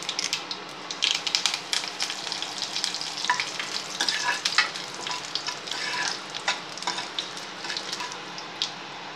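Dried red chillies and curry leaves fry in hot oil for a chow chow kootu, with a steady close sizzle and crackle broken by light scraping stirs throughout.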